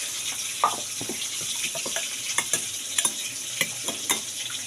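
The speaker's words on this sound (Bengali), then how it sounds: "মাছটা আলুটা এইভাবে ভেজে নেব লাল করে মাছটা ভাজবো" Pieces of rohu fish and potato fry in hot oil, giving a steady close sizzle broken by scattered sharp spatters and pops, with no voices.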